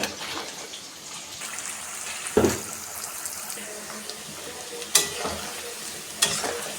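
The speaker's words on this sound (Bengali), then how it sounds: "এটা আমার প্রায় ভাজা হয়ে গিয়েছে, আর একটু ভাজলে কমপ্লিট হয়ে যাবে।" Vegetables and paneer seasoned with salt and turmeric sizzle steadily in a frying pan, close and fairly quiet, with a few sharp utensil knocks against the pan at irregular intervals.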